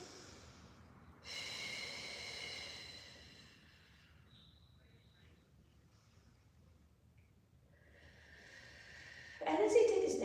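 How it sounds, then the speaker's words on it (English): Slow, deep breaths drawn in and let out during a gentle beginner exercise routine, soft and near, with a long airy exhale, a quiet pause, then a louder breathy burst at the end. "All right, let's just breathe in and out."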